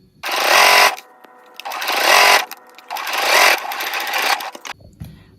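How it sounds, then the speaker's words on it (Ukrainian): A sewing machine runs a seam 1 cm from the long edge of fabric for a soft hair curler, four loud close whirring bursts separated by brief pauses. "Прокладаємо строчку на 1 см від краю по довгому краю."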